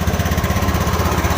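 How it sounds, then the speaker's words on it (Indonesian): A fuel-injected motorcycle engine idles right after starting, with a rough, lumpy low rumble that pulses steadily and stays loud and close throughout. "Oke, mesin sekarang hidup."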